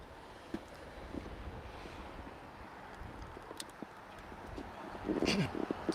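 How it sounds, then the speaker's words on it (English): Gusty wind on Bar Island buffets the microphone with low rumbling and occasional bumps, a louder gust rising near the end. "It is very, very windy here."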